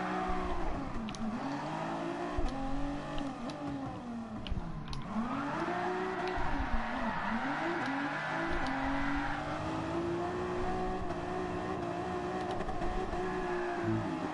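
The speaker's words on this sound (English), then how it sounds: "He has a beautiful drift." Engine drone from a racing video game car drifting through a corner, a steady revving hum that dips and swells with pitch sweeps, continuous and fairly loud with no distinct tire squeal standing out.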